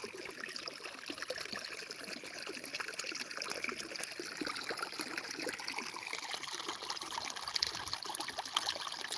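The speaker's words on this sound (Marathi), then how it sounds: "आणि इथं पाणी मारत आहे" Steady rush of water pouring from a solar pump pipe, continuous and fairly loud throughout with no voices.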